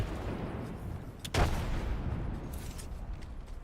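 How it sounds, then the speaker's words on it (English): A frag grenade goes off in the shooter Apex Legends, one sharp booming blast standing out about midway through a busy backdrop of distant gunfire and rumble. "Hurling a frag grenade."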